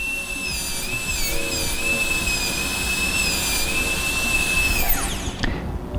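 A dental drill bur grinds down lower tooth 45 to prepare it for a partial-coverage metal-ceramic crown, giving a steady high-pitched whine that wavers slightly under load, then spins down and stops near the end.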